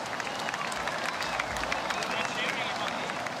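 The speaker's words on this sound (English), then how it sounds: "let's hear it for them. A big round of applause" Crowd applause for surf competitors at a pro surfing contest finals day on the Gold Coast, dense steady clapping filling the whole moment with some crowd murmur mixed in.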